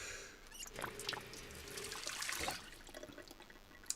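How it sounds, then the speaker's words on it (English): Water trickles and pours as an empty water bottle is filled in the survival game Project Zomboid, a soft, close liquid stream with a brief gurgle, no voices. "Fill the empty water bottle so I've got some water."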